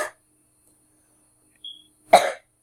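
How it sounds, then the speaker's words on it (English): A single short, raspy cough, close and fairly loud, follows a faint brief sound and a near-silent pause; nobody speaks. "I have a cough"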